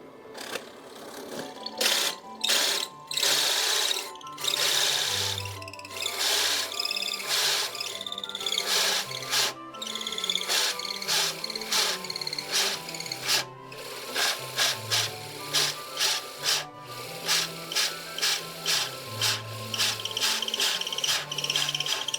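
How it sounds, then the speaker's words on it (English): A hole saw on a Harbor Freight drill press cutting into wood, a rasping, grinding whine in repeated bursts with short pauses between cuts, loud and close, with a low drone beneath. "Not sure if it's the hole saw or the crappy Harbor Freight drill press"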